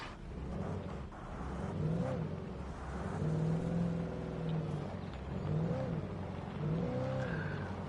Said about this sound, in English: Didn't expect the car to drift like that.